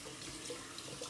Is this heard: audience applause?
no